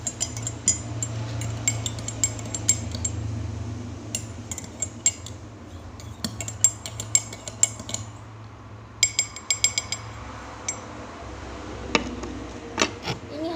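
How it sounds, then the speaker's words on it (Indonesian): A metal spoon stirs Sunlight dish soap into a glass of water, giving scattered light clinks and taps against the glass over a steady low hum, fairly quiet, with no talk. "Langkah yang berikutnya yaitu diaduk menggunakan sendok."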